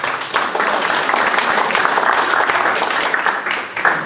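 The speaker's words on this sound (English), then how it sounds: "Let's give him a applause." Applause from the audience at a city council meeting, a dense, steady wash of many hands clapping together for a few seconds with no voices over it.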